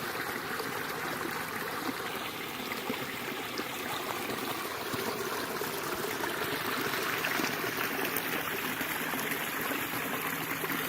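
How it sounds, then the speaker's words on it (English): Woodland stream on the Appalachian Trail in Connecticut and Massachusetts, water babbling and trickling steadily over rocks, a continuous close wash with no voices. "Wonderful stream"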